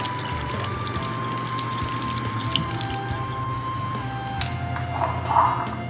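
A tap runs steadily over eggplant being washed in a kitchen sink, a continuous close water rush with splashes and drips shifting slightly near the end.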